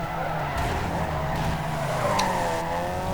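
A Ford Model A skids with a sustained, loud tire squeal over a steady engine drone, close and continuous, with a few sharper screeches as the tires break loose.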